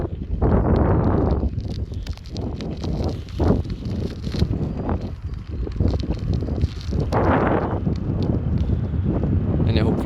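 Wind buffeting a microphone on a bicycle ride outdoors, a loud continuous rumbling roar that surges and fades in gusts throughout.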